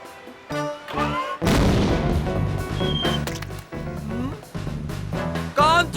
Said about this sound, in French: Un canon à guano.